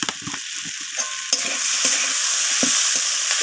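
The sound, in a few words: stirring vegetables in pan after adding salt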